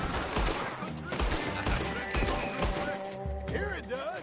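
Video game gunfire in rapid bursts and fusillades, loud and dense, mixed with music and game effects while a voice talks over it.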